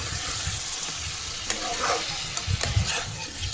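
Hilsa fish and arum curry stir-fried in a pan give a loud, continuous sizzle with scraping strokes of a spatula and a few sharper knocks against the pan.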